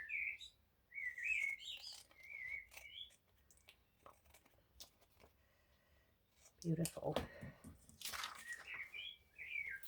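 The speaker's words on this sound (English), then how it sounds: "I don't know if you can hear that, but there's a blackbird." A blackbird sings nearby in fluty, whistled phrases that come in bursts with gaps between them, fairly faint, while a person speaks briefly and handles items close by.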